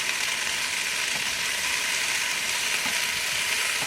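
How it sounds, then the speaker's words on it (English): Hash browns and deer sausage sizzle and fry in a pan at a camp cookout, a steady close hiss with faint crackles and no talking. "You can hear the sizzle."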